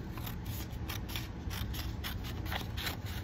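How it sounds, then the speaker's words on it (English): Scissors snipping close around a printed sublimation design for a doormat, a rapid run of crisp cutting crunches with steady rhythm, close up and alone. "when you cut this one, you want to cut close to your design"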